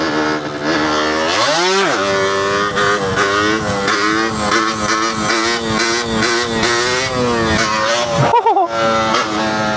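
A 125cc DTR two-stroke motorcycle engine runs loud and close throughout, its pitch sweeping up and down through repeated gear changes and revs, with a sharp rev burst near the end.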